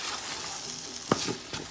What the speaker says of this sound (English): We're just steaming the vegetable pretty much.